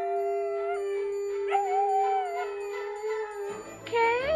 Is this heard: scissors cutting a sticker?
no